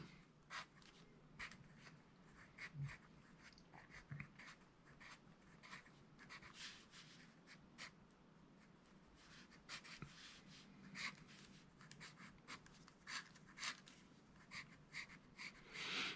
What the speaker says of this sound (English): And then you can take a slightly darker pencil and go over it